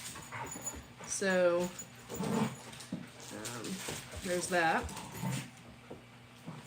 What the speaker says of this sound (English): And I'm so sorry about the dogs.